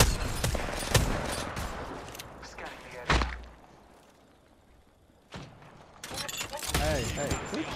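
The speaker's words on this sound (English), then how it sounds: "Shooting. I know it's part of the game, but heck." Video game gunfire cracks out in scattered sharp shots and short bursts, several loud reports spread across the stretch with quieter gaps between, while voices talk in the background.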